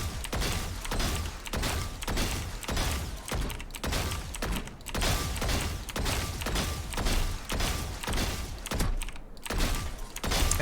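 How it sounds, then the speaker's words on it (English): Gunshots at practice bots in Valorant: a loud shot followed by mechanical clanks, repeating about every second as a steady series of roughly a dozen shots, close and punchy, with no talking. "we're going to be shooting the bots and try to hit their heads whenever we do this"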